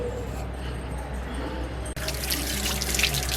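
Aloe vera leaves being washed under a running kitchen tap, a steady low stream of water that turns to a brighter, louder splashing partway through as the flow hits the leaf.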